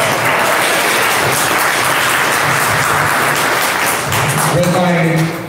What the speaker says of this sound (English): let's give Redline a round of applause